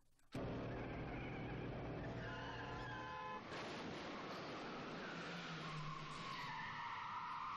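Car tires skid across a road in the Danganronpa video game, a loud, sustained screech running for several seconds over a broad wash of noise with no talking.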